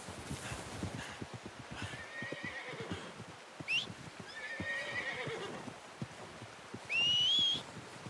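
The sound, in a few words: horse neighing in video game Red Dead Redemption 2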